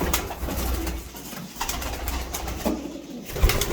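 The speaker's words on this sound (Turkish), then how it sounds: "İspir dedikleri bir kuş." Ispir pigeon chicks coo softly amid a low, rumbling wind-like background in a pigeon loft, with no one speaking.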